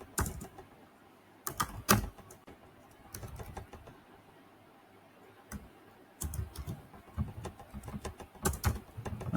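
Computer keyboard typing a database name into a terminal while setting up a LAMP stack on Ubuntu, heard as short clustered bursts of close, crisp key clicks separated by quiet pauses.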